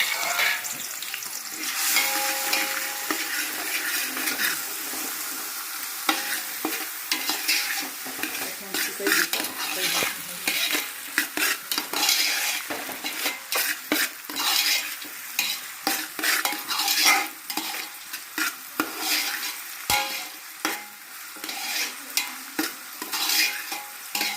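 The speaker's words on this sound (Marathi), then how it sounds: "तर आता आपण हा कांदा टोमॅटो घालायचा आहे त्याच्यामध्ये आणि ते आपण भाजून घ्यायचं आहे" Onion and tomato frying in hot oil in a pan for Kolhapuri-style chicken pickle, stirred continuously with a metal spoon: steady loud sizzling under repeated scraping and clinking against the pan, with no talking.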